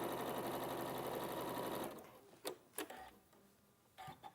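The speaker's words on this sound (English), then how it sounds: "Just keep your seam flat as you sew" A sewing machine runs a steady, fast stitching rhythm along a fabric seam for about two seconds, then stops, followed by a few faint clicks and handling sounds.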